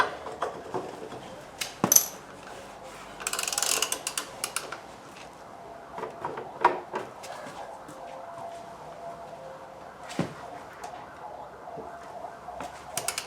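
An Allen key loosening the front wheel bolts on a 1990 Kawasaki ZX10 Tomcat, giving soft ratcheting clicks and metallic creaks in scattered bursts, close and fairly quiet, with no talk.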